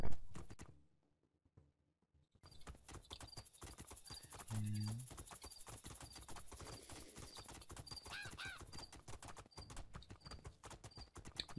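Steady clip-clop of horse hooves trotting in the fantasy video game Two Worlds 2, a brisk even rhythm close and clear, joined briefly by a short whinny partway through, with no talking over it.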